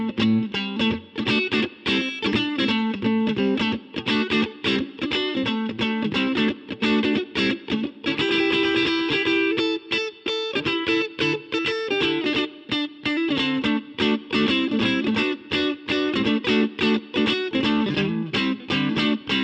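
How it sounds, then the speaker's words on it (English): An electric guitar on its neck pickup plays through an Overloud vintage amp model with a clean tone, a steady run of quick strummed and picked chords, close and continuous, with no voice. "that's the clean tone. It's pretty nice and warm."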